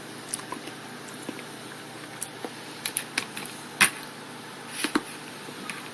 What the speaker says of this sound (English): hear the crunching sound.